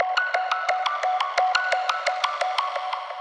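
A synth arpeggio for a drum and bass track, doubled by a duplicated channel pitched up an octave, plays as a steady run of quick, evenly spaced bright notes with sustained tonal layers, close and alone.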